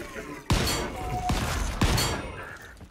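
Gunfire in the steampunk survival game Volcanoids, three sharp shots spaced roughly evenly over a few seconds, each striking loudly above a steady background of game noise.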